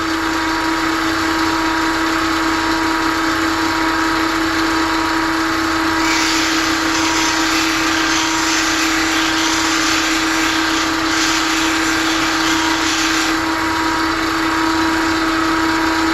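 A skew paring chisel is ground on a grinder: a loud, steady motor drone runs throughout, with a harsher grinding hiss added through the middle stretch.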